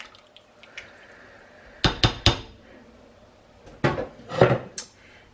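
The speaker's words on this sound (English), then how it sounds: "I'm just gonna mix it around just a little bit so that salt can get kind of dispersed." Raw chicken being stirred with salt and pepper in a slow cooker, heard as a few close, sharp clinks and scrapes of a utensil against the pot in two short bursts, with near silence between them.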